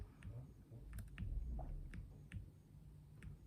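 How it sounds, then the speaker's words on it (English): Faint, sparse mouse clicks from scrolling down a Wikipedia page on a computer, a handful of separate light ticks spread out over a low background hum. "this clicking noise of me scrolling down the Wikipedia page of List of American Films of 2024 is going to be very loud in the video"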